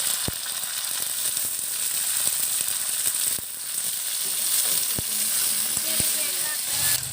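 Ginger-garlic paste and chopped tomatoes fry in a pan with a steady, close sizzle, broken by a few sharp scrapes and taps as a utensil stirs them.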